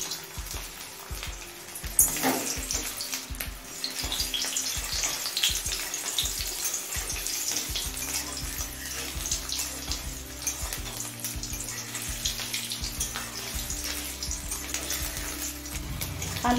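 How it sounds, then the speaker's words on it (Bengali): Potatoes frying in mustard oil heated on a high flame in a kadai, a dense, loud, watery sizzle, opening with a sharp splash as they go in and then frying steadily without voices. "এবার আলুগুলো ভেজে নেব।"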